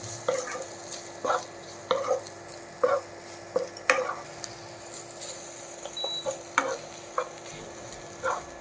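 Black pepper being stirred into butter pepper chicken pasta in a pan, with a spoon scraping in short separate strokes about once a second over a faint steady sizzle, close and quiet with no talk.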